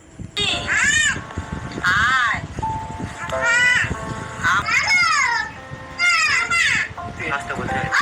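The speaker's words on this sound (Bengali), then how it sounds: "দেখুন তার মালিকের সাথে এবার এই শালিক পাখিটি কীভাবে কথা বলে।" A pet common myna gives repeated loud, close, voice-like squawks and chattering calls in bursts, with human speech between them.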